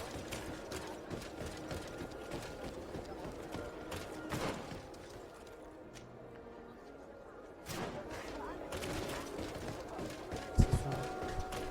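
Horse hooves clip-clop in the Greedfall video game, irregular clattering steps mixed with mechanical clicks, moderately loud, with a voice briefly speaking over it.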